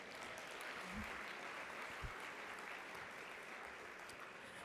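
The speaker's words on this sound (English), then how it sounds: "round of applause to them again" Conference audience at a plenary session applauding, a steady, even wash of clapping that lasts throughout without talk.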